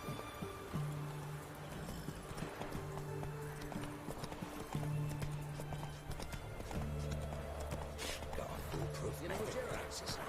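Horse hooves clip-clop and a whinny sound in The Witcher 3 video game, rhythmic hoofbeats running under game music and effects, with someone talking over the action.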